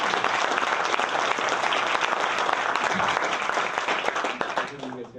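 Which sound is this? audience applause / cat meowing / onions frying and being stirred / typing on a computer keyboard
audience applause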